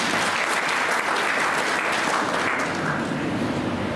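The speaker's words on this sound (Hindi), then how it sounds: "इसके लिए मैं चाहता हूं कि आप जोर से तालियां बजाएं।" Steady, dense applause from an audience at a senior citizens' pensioners' association gathering, loud and sustained with no pauses.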